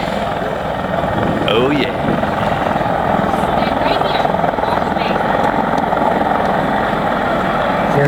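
A CH-53 helicopter with a seven-bladed main rotor spools up at ball fields during an airshow, a loud, steady, broadband rotor and turbine roar throughout, with a brief spoken remark nearby.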